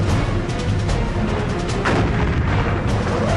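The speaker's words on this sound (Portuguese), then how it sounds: "We started now dueling with them with our 2 5-inch gun." A 5-inch naval gun fires in battle, dense heavy booming and rumbling blasts that fill the whole stretch at high loudness.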